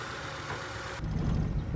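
A Kia Pride engine runs on a test drive, a low steady hum that swells into a louder, rougher rumble partway through, close and continuous.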